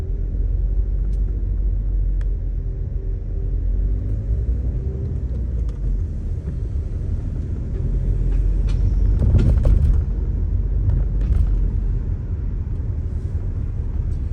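A car driving on the road, its engine and tyre rumble loud and steady from inside the cabin, swelling briefly partway through with passing traffic noise.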